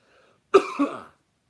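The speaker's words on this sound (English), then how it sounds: "sorry for the cough if that was loud for people" A single sharp cough, close and fairly loud, with a short second burst trailing off, in an otherwise quiet setting.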